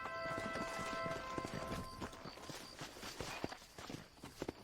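Horse hooves clip-clop steadily in Red Dead Redemption, a continuous walking rhythm of close, distinct hoof strikes mixed with game ambience and music tones.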